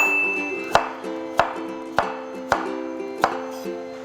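A knife chops apple into small cubes on a board for apple pie filling, with five evenly spaced sharp, crisp taps against a quiet background, each ringing briefly.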